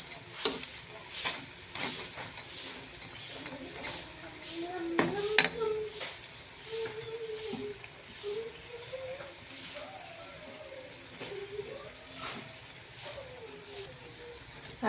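Pumpkin flower fritters fry quietly in a pan with a soft sizzle, broken by scraping and stirring clinks from utensils, with faint indistinct background sounds.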